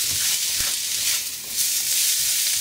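Mushrooms, onions, peppers, garlic and ginger frying in a hot pan give a steady, close, loud sizzle and hiss, with a few soft stirring knocks and no talk.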